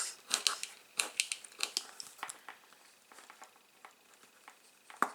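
Paper being creased with a bone folder while making a Winnie the Pooh themed album: a string of soft, close crinkles and scraping taps, fairly quiet, that thin out toward the end, with no voices.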